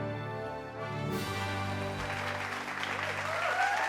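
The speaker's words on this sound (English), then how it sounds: "Ladies and gentlemen, please applaud" A live audience breaks into applause at a sports-themed hall of fame show, the clapping building from a faint start into a steady wash behind a strongly sustained musical tone.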